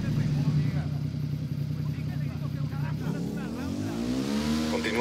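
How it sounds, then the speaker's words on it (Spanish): A motorcycle engine in Tom Clancy's Ghost Recon revs and accelerates, a buzzing engine tone climbing in pitch toward the end, fairly close and loud, with game noise and some talk around it. "Ya tengo la moto."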